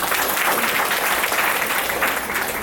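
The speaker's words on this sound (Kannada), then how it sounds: "ಎಲ್ಲರಿಗೂ ಬಹುದೊಡ್ಡ ಚಪ್ಪಾಳೆ ಸಿಗಲಿ" An audience claps loudly and steadily throughout at an awards ceremony for students, a dense wash of applause with no pauses.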